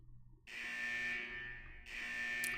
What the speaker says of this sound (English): The buzzer signaling the test's end finally rings.